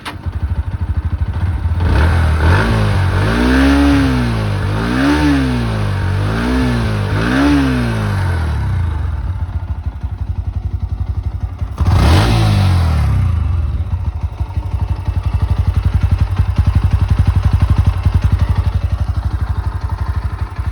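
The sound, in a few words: Bajaj Pulsar NS 125 motorcycle exhaust revving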